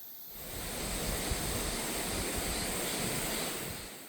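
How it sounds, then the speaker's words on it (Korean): Water rushing loudly down a stream in a Jirisan National Park valley, a steady broadband roar that swells in and holds throughout with no talking. "오른쪽 아래로 물소리가 크게 들리기 시작하는데요."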